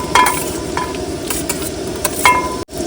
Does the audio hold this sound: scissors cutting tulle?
no